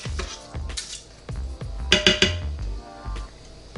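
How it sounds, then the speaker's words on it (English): A spoon stirs rice and water inside the metal pot of an Emeril Lagasse pressure air fryer, giving a series of close, sharp clinks and scrapes in an uneven rhythm, with a brief cluster of louder knocks midway. "I just like to just stir them up a little, make sure things are well stirred in there"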